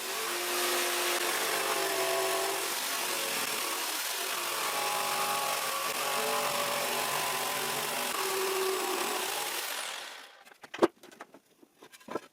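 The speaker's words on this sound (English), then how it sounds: "I draw a line that divides the plank into identical parts, and I split the plank." Power saw splitting a wooden plank for reinforcing a sawhorse: a steady, close motor whine with cutting rasp for about ten seconds, then the tool stops and a few sharp knocks and clatters follow.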